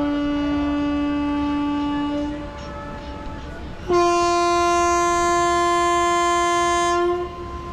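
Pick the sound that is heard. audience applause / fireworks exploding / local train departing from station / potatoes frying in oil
local train departing from station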